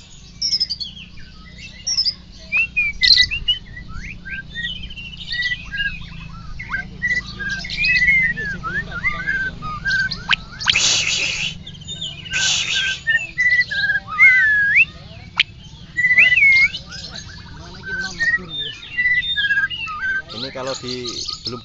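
White-rumped shama, a murai batu of the Medan Bahorok type, sings close by in a varied run of whistles, chirps and squawky notes. A low background hum runs underneath.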